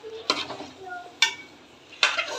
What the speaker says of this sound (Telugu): ఇప్పుడు ఇవన్నీ బాగా కలిసేలా కలుపుకుందాం అండి